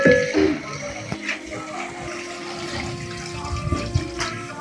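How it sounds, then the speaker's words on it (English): Water pours into a cooking pot of soup with meat and tomatoes during dinner preparation in a Ugandan village, a steady splashing gush close by that runs throughout, with faint background sounds. "so we can add water"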